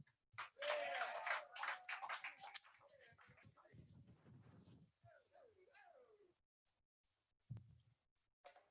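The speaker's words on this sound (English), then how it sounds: "Y'all give a round of applause to Rob Pug." Audience applause at a birthday comedy show: a loud burst of clapping that fades over a few seconds, followed by a speaking voice over the room.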